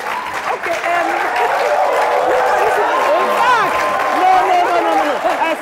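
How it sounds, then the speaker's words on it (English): An audience at a panel discussion claps in a sustained, dense burst. Loud voices and crowd chatter sound over it throughout. "Why are you clapping? Even the women, you are clapping."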